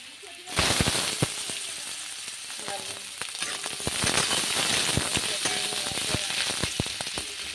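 Potatoes frying in hot oil in a wok, a loud steady sizzle that jumps up as they drop in and stays dense with crackles and stirring clatter.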